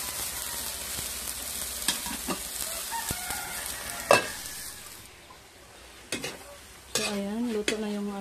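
Meat sizzling in a covered pan with burnt garlic, a steady broadband fry running close and loud for several seconds, broken by a few stirring clatters and a short bird-like call near the end.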